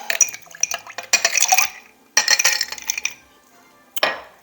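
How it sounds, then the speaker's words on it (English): Ice cubes clatter and clink into a cocktail mixing glass in several sharp bursts, close and loud, with short pauses between scoops. "just add ice to our mixing glass"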